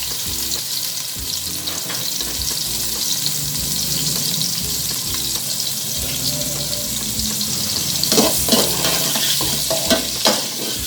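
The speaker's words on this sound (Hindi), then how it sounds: "अब हम सबसे पहले डालेंगे इसमें ऑयल, साथ में डालेंगे प्याज" Onions sizzle and fry steadily in hot oil in a home kitchen pan while a chicken karahi is being made, with scraping and stirring noises, a brief run of tap water, and louder stirring clatter near the end.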